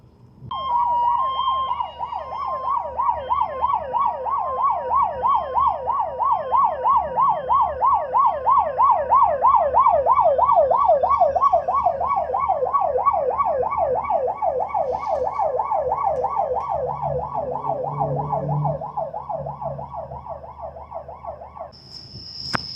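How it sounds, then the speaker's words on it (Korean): A loud wailing siren from a passing 119 emergency vehicle and an ambulance cycles rapidly up and down for a long stretch, holding steady before cutting off, with traffic rumbling underneath, heard from a 25-ton wing-body truck in Korea. "119하고 구급차하고 막 가네요 지금"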